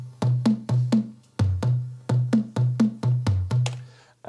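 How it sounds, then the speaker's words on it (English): Tuned toms from an Elektron Machinedrum play a rhythmic pattern of about sixteen punchy, pitched hits with quick decays. They step between a few tunings and sound close and clear, with no voices. "when I did the toms, I used a machine drum"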